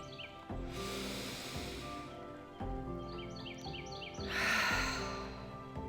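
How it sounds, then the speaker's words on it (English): Birds sing outdoors in quiet bursts of chirps and short trilled phrases, faint and somewhat distant, set over a low steady background hum. "I can hear the birds"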